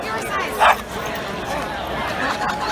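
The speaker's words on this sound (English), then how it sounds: "Well, dogs having fun." Dogs playing outdoors give a single short, sharp bark partway through, set against a steady background of murmuring voices and ambient noise.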